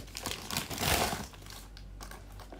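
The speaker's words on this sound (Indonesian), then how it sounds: "Langsung aja kita unboxing." Plastic packaging crinkles and crumples in a brief burst as a package is opened, rustling close by and then fading to softer handling sounds.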